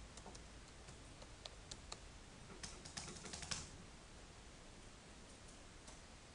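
Keys tapped on a computer keyboard while entering an email and password, a faint run of light clicks with a brief faster burst midway, over steady background hiss.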